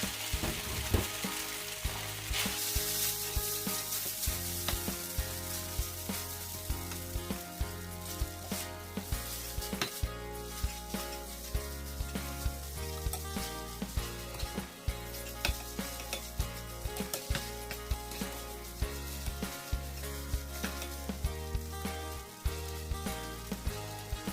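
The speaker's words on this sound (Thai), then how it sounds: "มาเตรียมผัดเส้นกันค่ะ ตั้งกระทะใส่น้ำมันลงไปนะคะ" Steady loud sizzling and frying of noodles in oil in a hot pan, with repeated scraping and tossing sounds as they are stirred, continuing throughout.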